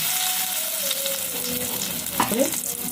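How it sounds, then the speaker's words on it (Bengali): Oil sizzles steadily with whole garam masala spices frying, a continuous crackling hiss with a few brief stirring clinks near the end. "আমি গোটা গরম মশলা ফুলিয়ে দিচ্ছি"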